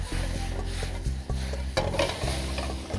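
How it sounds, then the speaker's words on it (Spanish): Cleaned blue crabs are sautéed and seared in a pan, with a spatula scraping and stirring over a low, steady hiss of frying, close and fairly loud, with no talking. "Los voy a poner acá y los voy a saltear. Los voy a sellar."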